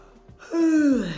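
A drawn-out, descending vocal yawn imitated by a person, rising abruptly then sliding down in pitch over about a second, close and fairly loud.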